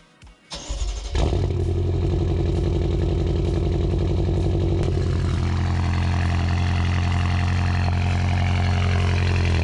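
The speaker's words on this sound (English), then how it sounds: "A slight cold start, but yeah, way too loud doing that" A BMW F10 M5 engine cold-starts with a starter whir and catch, then settles into a loud, rumbling high idle that holds steady and close throughout.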